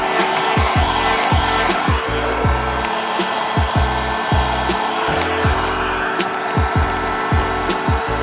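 A heat gun blows steadily on vinyl wrap film on a car, a loud continuous airy roar close by, with repeated sweeping thumps and short crackles as it is moved over the surface.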